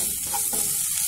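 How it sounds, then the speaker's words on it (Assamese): Ingredients for a shol fish curry with tenga frying in a hot pan, a continuous bright sizzle with scraping stir strokes, close and loud with no voices. "এইখিনি গোটেইখিনি মই এতিয়া দুই মিনিটমান ভাজি ল'ম"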